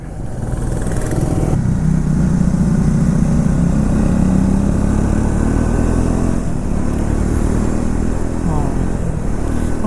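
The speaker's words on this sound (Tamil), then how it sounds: "நான் மட்டும் இல்லை, நம்ம கூட ஒரு 14 பைக்ஸ் இருக்குது." A group of about fourteen motorcycles climbs the hairpin bends of Kolli Hills, engines droning loudly and close with shifting revs, while a rider talks over the steady roar.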